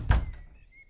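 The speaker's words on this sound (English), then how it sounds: "You knock on the door" One knock lands on a heavy wooden door carved with runes, a short dull thud followed by a fainter second tap and a quiet fading ring, heard alone.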